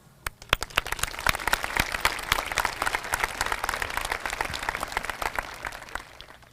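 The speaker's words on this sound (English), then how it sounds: "we all deserve a round of applause" An audience at a 2021 high school graduation ceremony breaks into applause, a dense crackle of many hands clapping that builds quickly and keeps going at a steady level with sharp individual claps standing out.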